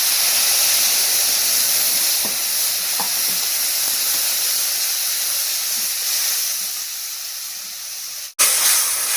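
Water poured into a hot pan holding a ground paste of poppy seed, cashew, raisin and melon seed hisses and sizzles steadily, loud and close, with a few faint clinks, then cuts off abruptly before a brief resumption.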